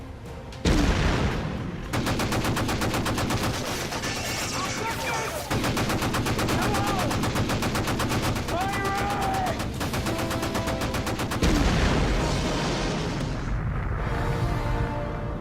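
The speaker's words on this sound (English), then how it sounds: "Fire at will. Prepare to fire. Firing." Gunfire in a war action movie, dense rapid machine-gun bursts and heavy booming shots layered with music and effects, loud and continuous with voices briefly heard.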